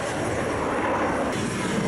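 An airplane at Haneda Airport gives off a steady, broadband engine roar. It stays at an even loudness throughout and sounds moderately distant, with no voices.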